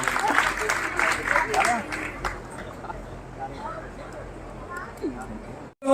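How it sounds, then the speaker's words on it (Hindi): Applause from a crowd at a children's cultural program, loudest in the first two seconds and then thinning to scattered claps under background chatter. "सभी बच्चों के लिए एक बार जोरदार ताली"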